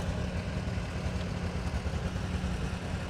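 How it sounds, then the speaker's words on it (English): A 1951 Oliver 88 diesel row-crop tractor runs in a tractor parade, its engine giving a steady, rough low rumble with a faint clattering texture, continuous and without talk. "Oliver 88 diesel."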